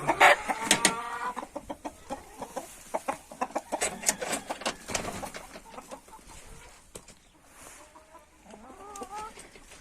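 Chickens cluck busily in a henhouse, a mix of close and farther calls with quick repeated bursts that thin out toward the end, where a few softer drawn-out calls rise and fall.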